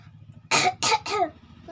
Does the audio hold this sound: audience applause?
no